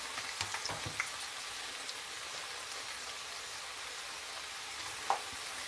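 Potato chips deep-fry in hot oil as a steady, hissing sizzle that fills the whole stretch. A few faint clicks and bubbles pop through, with one louder knock near the end.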